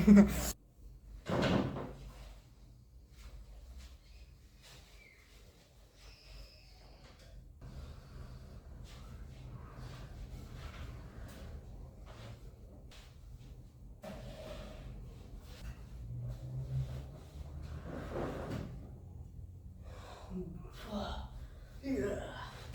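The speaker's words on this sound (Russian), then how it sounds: "Вынимаем ящики, передвигаем кровать." Drawers pulled out and a bed shifted during a house move, a sharp knock at the start followed by scattered scraping, bumping and sliding noises at moderate distance, with a voice talking quietly under them.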